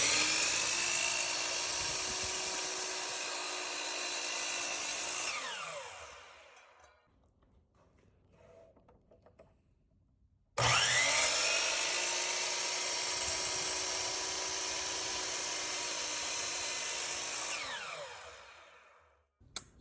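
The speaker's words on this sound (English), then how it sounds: "We're gonna use the miter saw just because that's easier." A miter saw cuts through a piece of oak in two passes, each a loud high whine that holds for several seconds and then winds down, with a quiet pause between them.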